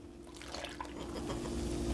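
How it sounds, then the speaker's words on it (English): Activated, fluffy yeast is poured into a homemade pizza dough mixture with a soft, continuous liquid trickle, close by, over a steady low hum. "To this, we're gonna go ahead and add our yeast."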